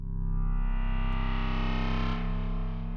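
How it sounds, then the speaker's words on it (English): A FORM software synthesizer in single mode holds one steady, buzzy distorted tone with dense stacked harmonics, loud and alone for about three seconds. "so you've basically got single mode, which is going to sound like this."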